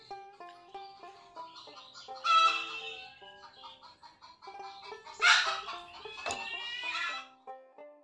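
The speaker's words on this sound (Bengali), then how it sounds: "আমাদের ঘরের বারান্দা অবধি কিন্তু মুরগি চলে এসেছে" Chickens cluck near a house's veranda in a series of short, bright, fairly close calls with small pauses, a couple of louder bursts standing out over a quiet background.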